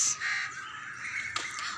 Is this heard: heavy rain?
no